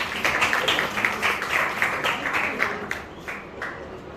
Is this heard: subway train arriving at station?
no